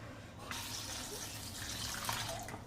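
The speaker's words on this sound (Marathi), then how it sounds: "याला आपल्याला स्वच्छ दोन पाण्याने धुवून घ्यायचं आहे" Freshly picked coriander leaves are rinsed in clean water in a kitchen sink, giving a steady, close splashing and trickling of running water that continues throughout.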